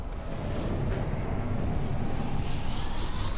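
A spaceship lifting off in the space video game SpaceBourne 2, giving a steady, loud engine roar with a deep rumbling low end and a hissing upper wash, continuous throughout with no talk.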